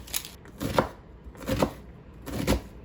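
An onion being chopped with a knife during home meal prep, three or four soft, close knife strikes on a board at an uneven pace, quiet with no talking.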